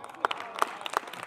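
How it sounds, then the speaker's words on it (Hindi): A small audience at a Hindi comedy and poetry show claps briefly: three or four sharp, isolated claps spaced across a moment of murmuring, fairly close but not loud. "इस पे तालियां वालियां बजाने की बात नहीं थी"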